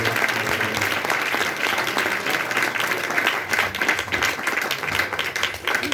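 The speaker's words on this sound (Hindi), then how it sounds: "Come on, clap, clap, clap." A church congregation claps together in steady, dense applause at a Hindi-English gospel preaching service, the clapping loud and continuous for the whole stretch with a faint voice underneath.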